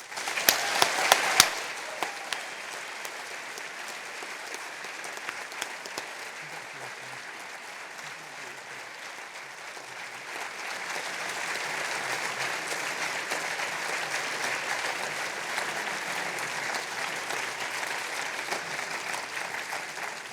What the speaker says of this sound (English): Ladies and gentlemen, would you please join me in applauding UNGRIP?